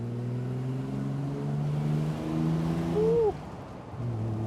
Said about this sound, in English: where you get to listen to that glorious exhaust note a little bit better